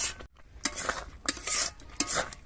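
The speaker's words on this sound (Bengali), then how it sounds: "মিষ্টিটাকে অনাব্রত এইভাবে নাড়তে থাকবো, নইলে নিচের দিকে লেগে যাবে আর দলা পড়ে যাবে।" Grape sweet syrup being stirred in a pan, with a series of distinct scraping strokes of a spoon against the metal, close and rhythmic, over a soft bubbling background.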